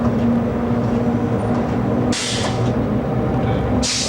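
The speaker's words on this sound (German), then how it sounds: "Das Gleis ist nass und dann fängt das Rad zum Schleudern." A heavy train rumbles steadily close by as its wheels slip on wet track, with two sharp hissing bursts cutting in over the grinding drone.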